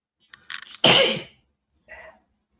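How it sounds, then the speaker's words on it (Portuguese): One sharp, loud sneeze close to the microphone in a lecture setting. A few short breathy intakes lead into the burst, and a faint murmur follows after a pause. "Eu não peço desculpa porque não tenho culpa de ter espirrado"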